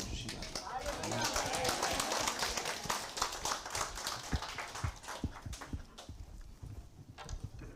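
A church congregation applauds to welcome a missionary to the pulpit, with quick, dense clapping from many hands that stays fairly even and slightly distant, and voices mixed in underneath.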